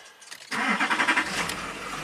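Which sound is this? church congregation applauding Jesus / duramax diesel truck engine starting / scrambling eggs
duramax diesel truck engine starting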